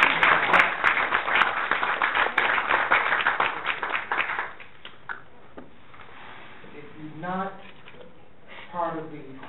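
A community forum audience claps in a loud burst of applause that fades out after about four seconds, followed by a person speaking.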